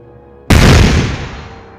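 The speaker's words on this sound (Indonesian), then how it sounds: "Tiba-tiba, suara ledakan kecil dari salah satu kios." A sudden sharp boom bursts from a market stall after a quiet hum, loud and close, then rolls off into a decaying rumble over about a second.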